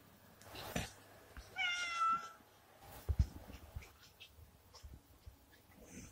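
A cat meows a few times up close, one drawn-out cry standing out, with quiet rustling and small knocks in between.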